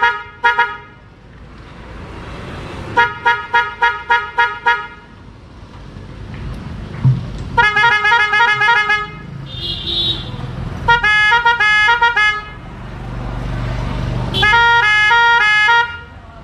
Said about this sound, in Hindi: चलिए आपको सुनाते हैं हॉर्न पूरे 8 मूड में